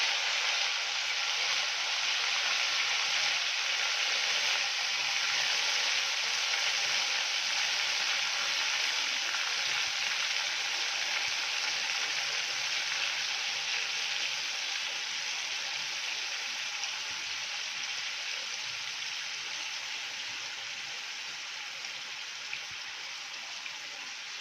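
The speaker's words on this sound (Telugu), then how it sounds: "సో ఇప్పుడు నేను ఇందులో నుంచి చికెన్ మాత్రమే తీసి ఫ్రై చేస్తున్నాను." Pepper chicken pieces fry in a pan, producing a continuous, even hiss like light rain that stays steady and softens slightly toward the end, with no voices.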